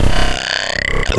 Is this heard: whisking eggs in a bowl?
no